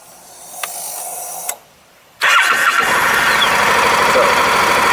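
A Honda NM4 motorcycle engine cranks and catches after a short silent pause, then settles into a loud, steady run close to the microphone, following some brief mechanical clicks and handling noise.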